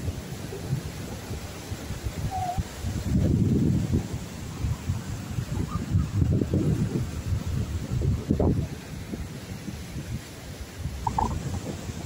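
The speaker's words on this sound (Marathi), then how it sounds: "मागे मस्त समुद्र आहे, भरतीची वेळ, मस्त वारा सुटलाय." Sea wind gusts across a beach at high tide at a resort in Alibag, buffeting the microphone in low rumbling bursts that swell and fade over a faint wash of surf.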